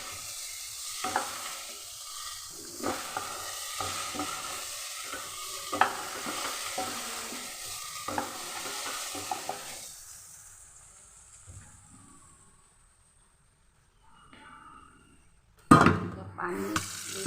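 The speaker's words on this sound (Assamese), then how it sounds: "এইখিনি অকণ ভাজিছোঁ।" Onion and garlic frying with cumin and coriander powder in a pan, stirred with a spatula in repeated scraping strokes over a soft sizzle, then quieting before a sharp clatter near the end.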